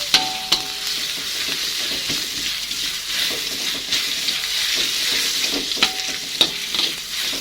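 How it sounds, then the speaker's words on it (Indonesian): Spice paste for seblak sizzles and fries steadily in a pan as it is stirred, with occasional sharp utensil scrapes and knocks over a constant hiss and no speaking. "Tumis sampai bumbunya matang ya teman-teman"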